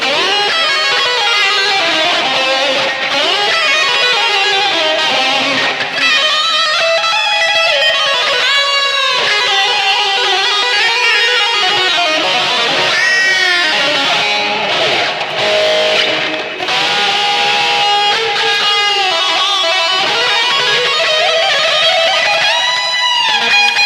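Electric guitar noodling through a BOSS digital delay and reverb set up to mimic an 80s Lexicon PCM-41, with loud, sustained chiming notes blurring into dense echoing repeats throughout.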